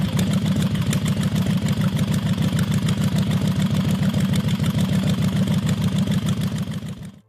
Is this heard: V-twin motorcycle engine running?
yes